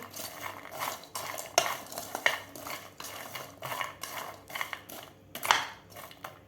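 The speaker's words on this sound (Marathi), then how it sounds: "मसाला घातल्यानंतर आपल्याला लगेच हलवायचा आहे" Hot masala-coated peanuts stirred in a pan with a metal spoon, giving repeated scraping and clinking strokes with dry rattling of nuts, close and moderately loud with no voices.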